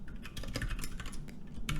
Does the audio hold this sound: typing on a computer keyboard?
yes